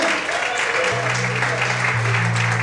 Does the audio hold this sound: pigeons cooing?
no